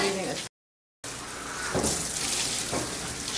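Running water from a tap while a dog is bathed with diluted de-shedding shampoo, a steady broadband splashing hiss that continues throughout apart from a brief gap near the start.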